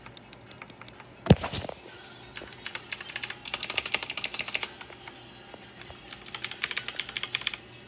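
Someone types on a Black Shark clicky gaming keyboard: bursts of sharp, close mechanical key clicks in quick uneven runs, broken by brief pauses and one louder thump early on, with no talking.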